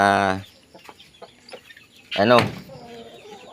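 Chickens and chicks on a farm give a loud cluck, then scattered faint peeps and scratches, then another loud clucking call.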